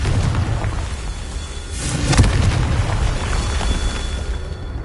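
A Confringo spell blast in Hogwarts Legacy bursts as a loud broadband boom about midway, thick with low rumble and ringing out against a dense wash of game noise and effects.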